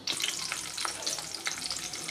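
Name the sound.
ginger, garlic and curry leaves frying in hot oil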